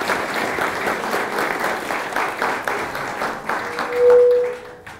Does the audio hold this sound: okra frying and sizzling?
no